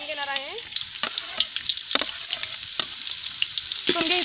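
A medium chopped onion drops into hot oil and fries with a bright, dense sizzle, punctuated by a few sharp stirring clacks; a brief tonal beep-like sound opens and closes it.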